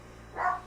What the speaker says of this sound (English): Stop that barking.